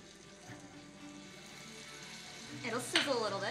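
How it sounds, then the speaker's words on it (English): Bananas sizzle softly in a hot frying pan, a low steady crackle that swells near the end, with a faint voice in the background. "It'll sizzle a little bit, which is good."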